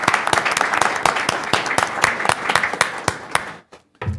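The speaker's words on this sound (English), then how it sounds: "let's have a round of applause for all the women in the audience" A small audience at a security forum applauds the women present, sparse distinct claps at an irregular rhythm, fairly close, stopping abruptly near the end before a brief sound.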